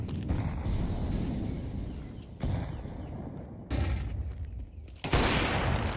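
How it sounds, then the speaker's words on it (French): Gunfire bursts in a competitive Counter-Strike match between ELS and DASH, loud, sharp volleys returning at intervals over constant game noise, with no talk. "Ah la balle qui sera ratée par Divi"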